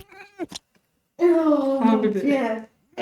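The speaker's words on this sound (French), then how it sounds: "c'est le chat." A cat meows twice: a short call near the start, then a long, drawn-out meow, close and clear, with a woman's brief exclamations around it.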